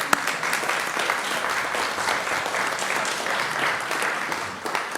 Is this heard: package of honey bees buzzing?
no